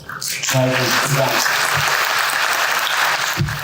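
Audience applause breaks out at the close of a literary talk event in Itabira with an author: a dense, loud, sustained clapping crowd that starts right after a brief voice and keeps going throughout.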